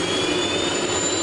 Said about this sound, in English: Why is there a helicopter in the sky with a big saw hanging from it?